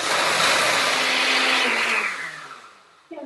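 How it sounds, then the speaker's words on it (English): Countertop blender whirring through soaked cashews and water, a loud harsh motor roar that runs steadily and then winds down as it is switched off, ending with a small clunk. "Put it on the blender and blend it up."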